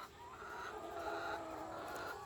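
Laying hens on a layer poultry farm clucking and chattering softly together, a faint, continuous flock murmur with overlapping low calls.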